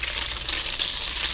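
Mangrove snapper fillet frying in a hot pan, a loud, steady, close-up sizzle with a dense hiss and faint crackle running without a break.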